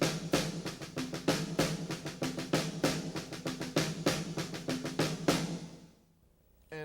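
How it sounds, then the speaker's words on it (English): Snare drum played in a steady sticking pattern where the in-between notes come as quick doubled strokes between accents, loud and close for about five seconds, then stopping and ringing out. "so it's 1 E and 1 E and 2 E and so the E and would be doubled, and that would sound like this."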